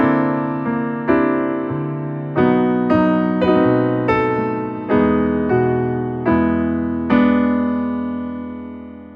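A jazz chord progression built around a 7sus2#5 chord, played as ringing struck chords that each decay before the next in a slow, even rhythm, clear and close with no talking.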